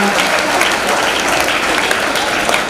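Students at a school award ceremony for top Tamil scorers break into loud, sustained applause from a large hall crowd, with a voice partly audible underneath.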